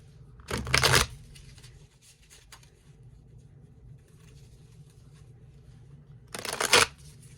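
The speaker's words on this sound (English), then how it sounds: "A quick shuffle." Two short bursts of tarot card shuffling, a quick riffle near the start and another near the end, separated by near silence.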